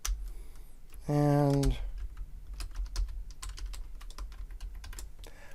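Someone types a password on a computer keyboard while installing Ubuntu LTS in a VirtualBox VM, with quick irregular key clicks close by, following a brief voiced word and a short tonal sound.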